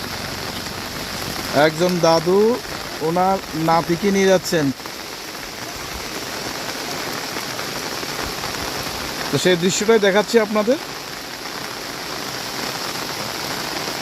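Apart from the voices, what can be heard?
rain falling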